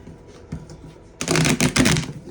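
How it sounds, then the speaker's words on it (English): Tarot cards get a quick riffle shuffle: a burst of dense, papery flutter and snapping that starts suddenly after a quieter stretch of faint handling, close up and loud. "Gonna give it one more quick shuffle."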